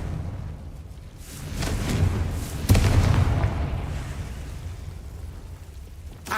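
Confringo blasting spell in Hogwarts Legacy, a deep booming explosion with a sharp burst partway through and a rumbling tail, preceded by a rising whoosh, no talk over it.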